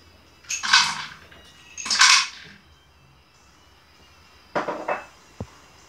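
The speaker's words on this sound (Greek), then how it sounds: "παίρνουμε τις καραμέλες μας και τις τοποθετούμε και αυτές μέσα στο τηγάνι" Candies are dropped into a frying pan in two bursts of bright, rattling clatter, followed by a shorter clink and a single sharp tap, close and loud with quiet gaps between and no talk.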